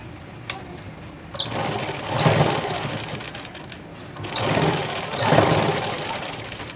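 A sewing machine top-stitching a blouse runs in two steady bursts separated by a brief pause, with a close mechanical whir and rattle and no talking.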